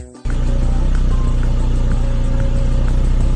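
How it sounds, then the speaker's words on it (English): Tractor engine running steadily after a brief start, a loud continuous low mechanical drone with a regular throbbing pulse, close and alone. "Tractor! Great! You are so smart!"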